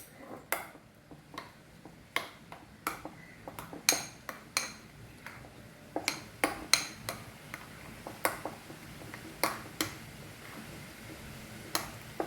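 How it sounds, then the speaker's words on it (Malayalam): A spoon stirs mango cream mixture in a bowl, tapping and clinking against the sides again and again in an uneven rhythm. The sound is close but fairly soft, with no voices. "ഇനി ഇത് നമുക്ക് മിക്സ് ചെയ്ത് കൂട്ടി യോജിപ്പിക്കാം."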